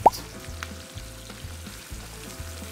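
Onions fry and sizzle in a hot pan for pork menudo, a steady close crackle with a sharp clink of a utensil at the start and soft stirring scrapes throughout.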